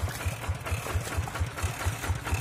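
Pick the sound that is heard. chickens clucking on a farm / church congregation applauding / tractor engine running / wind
tractor engine running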